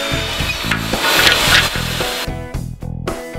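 A saw rips lengthwise through wooden fence boards in loud, rhythmic back-and-forth strokes, with short pauses between bursts.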